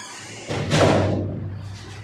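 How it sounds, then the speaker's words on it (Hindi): A door is pushed shut with a dull thump and a brief rattling swing, fairly close and loud, with a low hum underneath. "ये दरवाज़ा बंद कर दो"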